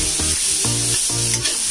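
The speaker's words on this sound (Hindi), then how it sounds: "अब अपनी वेजीज को सॉटे करेंगे।" Onions and mixed vegetables sauté in a hot pan for white sauce pasta, with three rhythmic spatula scrapes riding over a constant loud sizzle, close by and with no voices.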